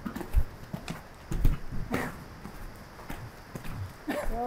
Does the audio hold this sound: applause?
no